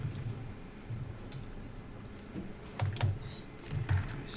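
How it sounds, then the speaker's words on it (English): Computer keyboard typing at a hacking capture-the-flag event, bursts of key clicks with short pauses against a steady room hum, growing denser and louder near the end. "I'm going to sit now because I can't type standing up"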